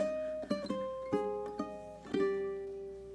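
A ukulele picks a short fantasy-style lick inspired by Japanese mythology, single plucked notes ringing one after another up close, quiet and unaccompanied.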